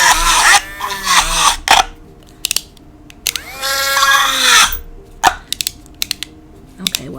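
Short bursts of a power drill whirring through plastic 2-ounce sauce cups, with pauses and small clicks between bursts, close by.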